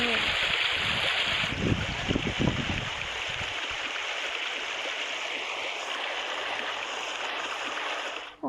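Rushing, splashing water pours through a city-destruction video game scene as a continuous, loud broadband wash, with a few short voice-like sounds early on.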